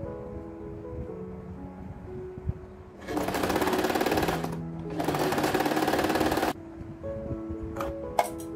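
A sewing machine stitches an under-scarf hijab cap in two close bursts of rapid rhythmic chattering, each a couple of seconds long, with quiet gaps and light handling noise between.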